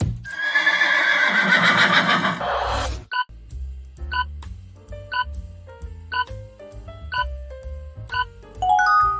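A horse gives a long, loud whinny for over two seconds, followed by a series of bright chimes and tones over a low rhythmic pulse.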